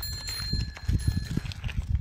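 A boy's bicycle bell ringing in quick, bright repeated dings close by, mixed with rattling and clattering of the bike as it is handled.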